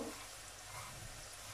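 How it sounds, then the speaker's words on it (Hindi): Onions fry in a pan with a pinch of asafoetida, a faint steady sizzle with a brief crackle at the start, no voices. "प्याज है उनको अच्छे से बढ़िया एकदम फ्राई करने हैं"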